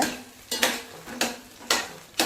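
Brinjal pieces are sautéed in oil in a pan, with four evenly spaced bursts of spatula scraping against metal over a low, quiet sizzle.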